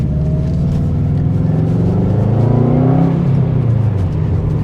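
A Subaru Impreza WRX STI with a 2.5-litre AWD boxer engine rumbles close and loud, its exhaust burbling steadily with a smooth rev rise and fall midway.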